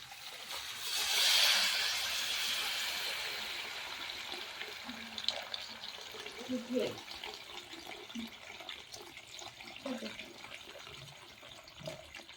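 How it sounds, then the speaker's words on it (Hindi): Water pours into a cooking pot as khichdi is made outdoors, a soft splashing rush that swells in the first few seconds and then fades under background sounds and some faint talk. "थोड़ा पानी ऐड कर दिए"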